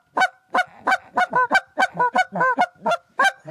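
Canada goose call blown to imitate the deep, hollow honk of adult honkers: about a dozen rhythmic, evenly spaced honks, loud and close, with no talking.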